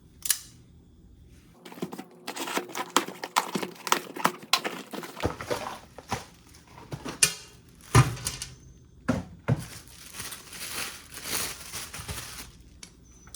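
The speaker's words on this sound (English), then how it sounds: "First thing we need to do is open up this box." Cardboard box containing heat deflector parts for a Belavi firepit being opened, with crinkling, tearing and rustling of packaging, thumps and clunks of metal pieces being handled in irregular bursts, close and clear, no talking.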